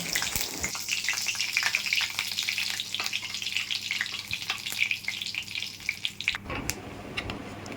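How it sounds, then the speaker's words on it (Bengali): Cumin seeds and bay leaves hit hot mustard oil in a kadai for a fish-roe fritter curry, producing a loud, busy sizzle with sharp pops and clatter that quiets briefly near the end. "জিরে তেজপাতা দিয়ে ফোড়ন দেব"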